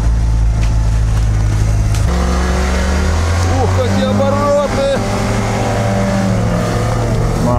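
A UAZ Patriot climbs a steep off-road slope, engine revving hard and loud with rising and falling pitch as it strains upward, while people shout and talk over it.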